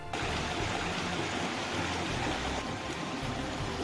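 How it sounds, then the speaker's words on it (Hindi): Steady rushing of a mountain stream in Barot Valley, a constant broadband wash with no voices, heard from some distance. "ये आप सुन रहे हैं दूरी की जलधारा की आवाज आ रही है।"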